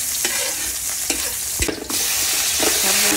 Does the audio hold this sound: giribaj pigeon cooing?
no